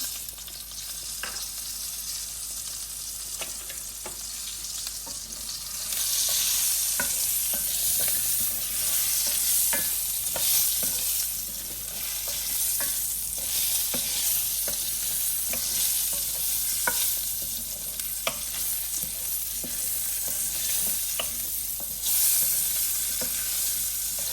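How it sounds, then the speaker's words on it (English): Onions saute in a pan just after butter, a loud continuous sizzle close by with repeated scraping and stirring clicks from a utensil throughout, no voices. "In the same pan, we're going to put the onions in."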